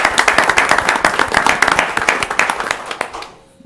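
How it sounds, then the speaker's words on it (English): Audience at a school board meeting applauding performers, a dense run of clapping from many hands held steady, then fading out near the end. "do you mind if we give them a round of applause again for their performance?"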